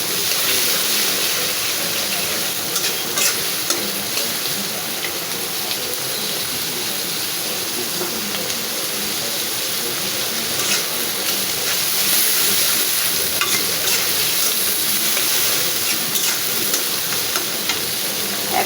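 Onion and ground dried shrimp fry in a pan for potato and bitter gourd bhaji, giving a loud, continuous sizzle with scraping stirs throughout and no talking.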